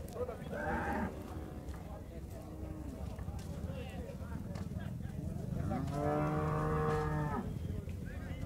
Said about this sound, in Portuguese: e aqui tá a vaca